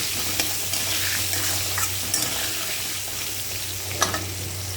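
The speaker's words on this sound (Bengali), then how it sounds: "আলুগুলো লাল লাল করে ভেজে নেওয়ার জন্য এখানে দিয়ে দেবো হলুদ গুঁড়ো আর দিয়ে দেব নুন। এখন আমি নেড়ে নেব" Potatoes frying with turmeric powder and salt are stirred in the pan, giving a dense, continuous sizzle broken by light scraping and clinking strokes from the spoon, up close and with no voices.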